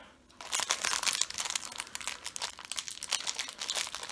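Crinkly plastic chocolate wrappers being torn and ripped open by hand, a dense run of sharp crackling and tearing bursts, close and continuous.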